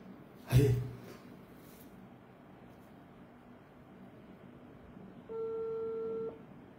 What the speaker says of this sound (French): Le téléphone sonne, hein, les gars.